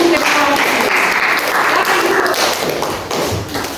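A classroom of students clapping together, a loud, ragged burst of hand claps with some thumps and tapping, voices mixed in, easing slightly toward the end.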